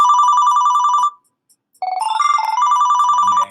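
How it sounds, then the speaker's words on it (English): Electronic phone ringtone from the Digital Passport video game, a bright repeating trill that rings for about a second, pauses briefly, then resumes in a shifting melodic pattern, clear and close with no voices. "then the phone goes off, and then I have to answer that message"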